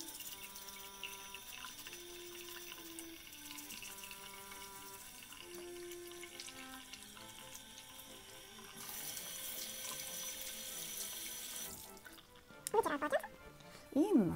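Running tap water splashing into a sink while hands are rinsed, a steady faint stream under soft music, ending with a few brief louder splashes.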